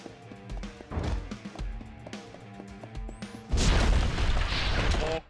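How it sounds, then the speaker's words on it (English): Rocket launcher blasts and crashing impacts in the video game Mr. Shifty, with a series of booming hits followed by a loud, sustained explosive burst near the end. "There's rocket launchers!"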